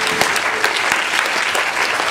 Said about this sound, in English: asking everyone again for a big round of applause for Hampshire SJP and everyone else who helped with